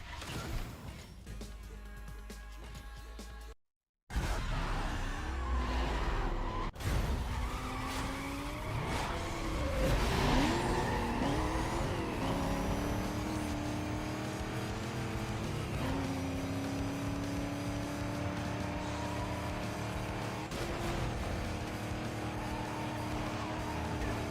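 Race cars from the video game NFS Most Wanted, including a Mustang, roar with rising and falling engine revs, screeching tires and skids, loud and continuous after a brief dropout.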